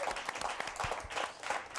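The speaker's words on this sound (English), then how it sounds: "Give yourself a round of applause." A studio audience at a TV interview program claps in steady, dense applause that fills the whole moment at moderate volume.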